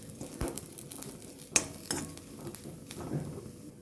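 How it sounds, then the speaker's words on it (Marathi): Grated coconut stirred and roasted in a pan with browned onion for a spicy amti makes quiet, irregular scraping and clinking, with a faint sizzle underneath and one sharper knock near the middle. "यात आपण खोबरं घालू त्याला पण छान परतून घ्यायचं"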